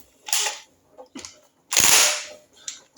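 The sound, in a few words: cordless impact driver loosening bolts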